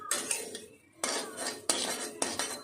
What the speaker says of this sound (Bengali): একটুখানি নেড়ে চেড়ে নেব।